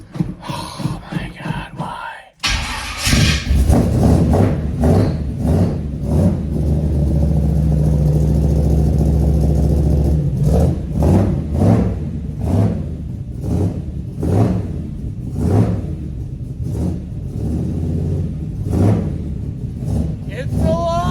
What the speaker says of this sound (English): I just started the truck up in the shop without the door open